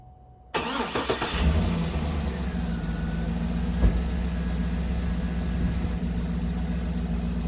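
A car engine cranks and catches, then settles into a steady, even idle after an engine flush treatment has been added to the oil for low oil pressure; close and continuous with no talking.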